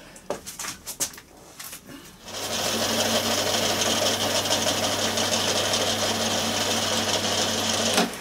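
A small lathe cuts a shallow recess of about 10-15 thou into a model garden-railway carriage wheel. After a few light knocks, a steady, loud machining whine and hum runs for several seconds.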